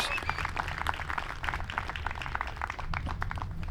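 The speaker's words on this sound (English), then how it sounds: "good applause from the audience" A disc golf tournament crowd outdoors applauds a birdie putt with light, scattered clapping, moderately loud and continuous.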